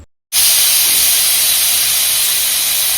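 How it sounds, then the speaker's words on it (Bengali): After a moment of silence, a loud continuous jet of steam hisses out sharply and steadily from a pressure cooker boiling potatoes, venting at close range. "এদিকে প্রেশার কুকারে মা চিকেনের জন্য আলুটা সেদ্ধ করতে বসিয়েছে"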